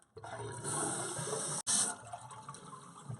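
Water rushes steadily into a toilet cistern fitted with a dual flush converter repair kit, a loud continuous pour that briefly cuts out and then resumes and tapers off.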